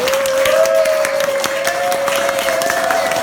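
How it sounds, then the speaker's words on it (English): A crowd applauds steadily and loudly throughout a first-grade class presentation, with a sustained tone humming underneath the clapping. "let's give them one more big round of applause"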